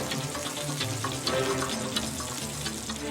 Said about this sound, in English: Hot fat going on in the frying pan.